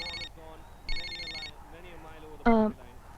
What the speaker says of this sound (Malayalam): ദേ വയറിംഗ് ഇല്ലാത്ത ഫോൺ.